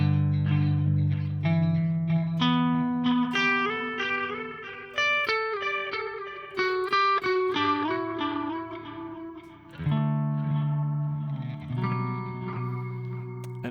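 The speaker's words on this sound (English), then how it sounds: "so tape echo." A Meris LVX delay pedal in magnetic tape echo mode repeats guitar notes, each followed by warm trailing echoes. A melodic line and chords ring out with smeared repeats that blend into a continuous wash.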